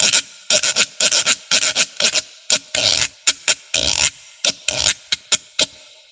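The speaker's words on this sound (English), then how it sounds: "And this is a gourd rasp." A gourd rasp, also called a weedle, scraped in quick bursts of rough, dry rasping strokes, each lasting a fraction of a second, played close and loud on its own with short gaps between strokes.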